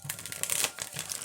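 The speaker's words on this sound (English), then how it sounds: "I keep shuffling." Tarot cards are shuffled in quick papery riffles, a soft crinkly run of flicks heard close and alone with no talk.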